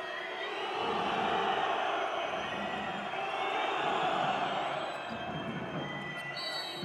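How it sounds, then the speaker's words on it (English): A handball arena crowd at a European championship match between Hungary and Russia, a sustained roar of cheering that swells and fades in waves. "Spanish style cheering with each pass"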